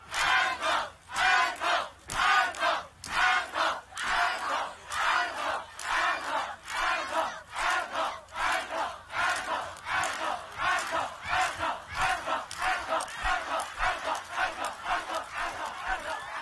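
A large crowd at a concert chants a two-syllable word in unison over and over, loud and rhythmic. The shouts come in regular pulses, each a roaring burst of many voices.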